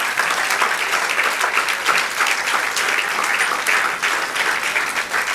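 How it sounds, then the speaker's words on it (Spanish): A church congregation claps steadily and enthusiastically during a worship service, a dense, sustained wash of applause with no voices standing out. "Denle otro aplauso al Señor"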